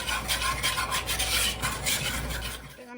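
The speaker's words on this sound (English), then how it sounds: "Just gonna add that and whisk this all together." A whisk scrapes and clinks rapidly around a bowl, mixing baking soda, baking powder and salt, a steady close-up rasping rhythm that stops abruptly at the end.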